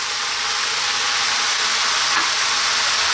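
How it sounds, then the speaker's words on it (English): Mushrooms and pak choy stir-frying in a hot pan for chicken fried rice, a loud, steady, close hiss of sizzling that runs unbroken throughout. "I'm now going to go in with my mushrooms and my bak choy or pak choy."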